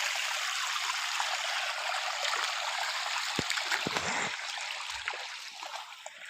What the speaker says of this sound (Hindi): यहाँ से उधर पानी जाता है।